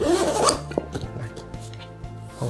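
A waterproof zipper on a Nomatic Everyday camera sling bag is pulled closed in a few quick, close zips with a rasping ticking texture, followed by faint handling noise of the bag.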